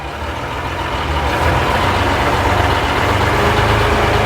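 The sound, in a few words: 1958 Leyland PD2 double-decker bus engine pulling in first gear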